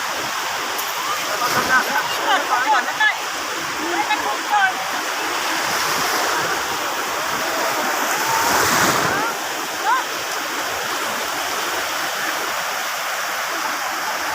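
Sea waves wash and rush at a crowded beach, a broad steady surf roar with a louder surge midway, while people talk over it.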